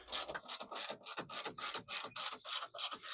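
Rapid ratcheting clicks from a ratchet wrench loosening a 12 mm bolt on a 2025 Toyota 4Runner during a horn install, repeating in quick bursts of strokes, close and clear with no talking.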